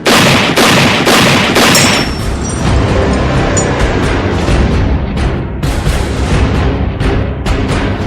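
Rapid bursts of gunfire ring out continuously, loud and close, with sharp cracks and booms layered over one another.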